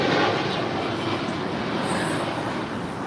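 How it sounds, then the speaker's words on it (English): A one-year-old Spirit Airlines Airbus A320neo departs LAX, its jet engines producing a broad, steady roar heard from a distance, without talk. "This is Spirit 953 departing to Detroit. It's a 1-year-old Airbus"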